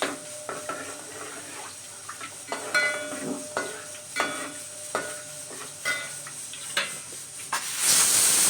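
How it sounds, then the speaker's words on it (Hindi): Black cardamom, cumin and bay leaf crackle in hot oil in a home kitchen, a soft continuous sizzle broken by a series of sharp stirring scrapes and clinks, each about every second, ending in a brief louder hiss. "मैंने इसमें बड़ी इलायची, ज़ीरा और तेज पत्ता को क्रैकअप होने के डाल दिया।"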